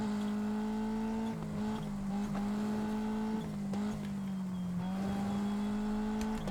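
Peugeot WRC rally car, driven by Grönholm, powering through a New Zealand gravel stage, engine droning steadily near and loud with repeated gear shifts and brief dips as it turns, no talk.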